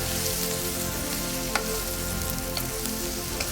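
Fish pieces coated in chili powder and salt fry steadily in a pan, a dense, even sizzle with a few sharp crackles and pops and no talking.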